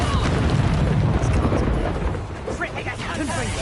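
A roaring fiery blast from an Incendio spell in Hogwarts Legacy, a dense rumbling burst that fills the scene loudly, with crackling combat effects and a voice speaking over it.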